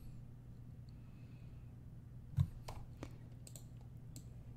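A few light plastic clicks from computer keyboard arrow keys, quiet against a low steady hum, with one slightly louder press and a handful of scattered taps.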